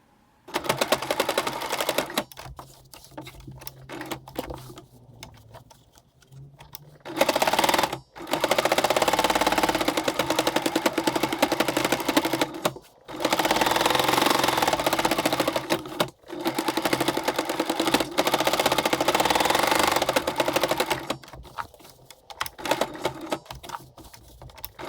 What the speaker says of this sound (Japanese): ポケットを身ごろに縫い付けよう。